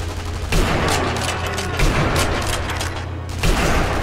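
Gunfire from the video game Sniper Elite V2 keeps crackling in dense, loud bursts over a constant rumbling game background, with heavier booms near the start and the end.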